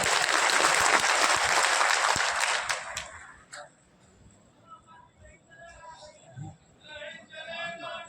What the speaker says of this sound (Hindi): एक बार जोर से ताली बजा के बताओ, जाऊँ या खड़ा रहूँ?